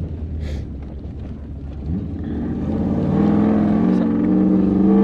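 A loud, rumbling exhaust on a 1UZ V8-powered 4Runner idles low and then grows heavier and throatier, with wind buffeting the microphone throughout.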